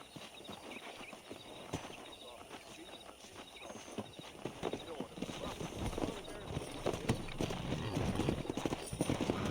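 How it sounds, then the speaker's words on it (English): Horse hooves clip-clop in an uneven trotting rhythm in the video game Red Dead Redemption, growing louder toward the end, with a faint background drone. "Let's see if we can't wrangle some horses."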